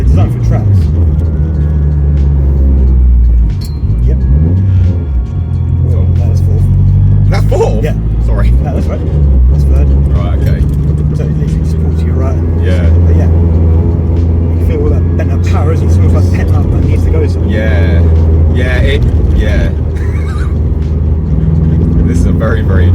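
A big-turbo 534 hp Honda Integra DC5 Type R drones steadily from inside the cabin, its low engine rumble constant and loud under ongoing conversation between occupants.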